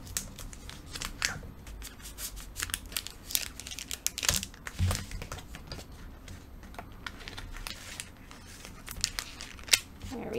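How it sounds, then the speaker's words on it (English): Items are pulled out of plastic sleeves and packed, making irregular crinkling and rustling with sharp plastic crackles throughout, while a voice talks quietly at times. "Take a lot of these out of their sleeves."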